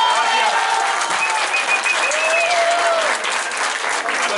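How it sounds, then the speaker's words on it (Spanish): A crowd applauds steadily at the inauguration of a public works project on Avenida Morelos in San Mateo Cuautepec. The loud, dense clapping holds for the whole stretch, with a voice rising faintly through it. "un fuerte aplauso también para él"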